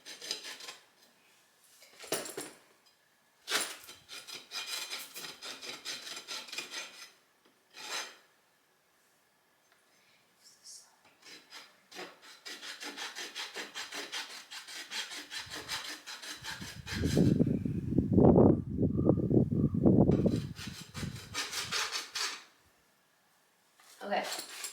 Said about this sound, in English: I think I might just try and rasp it a bit to clean it up